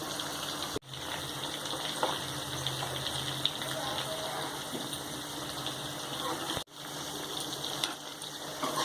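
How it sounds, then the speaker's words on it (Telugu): Chicken pakoda fries in oil over a slow flame, a steady hissing bubble that runs evenly with two brief dropouts, while a voice talks over it. "ఇది స్లో ఫ్లేమ్లోనే ఫ్రై కావాలి"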